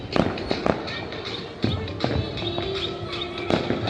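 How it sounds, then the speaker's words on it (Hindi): Firecrackers bursting at night during a Makar Sankranti kite festival, a run of sharp cracks and pops at irregular intervals, some close and loud, others more distant, over a steady outdoor background. "अभी भी पटाखे जल रहे हैं."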